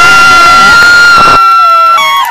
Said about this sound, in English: Give contestant number 3 a big,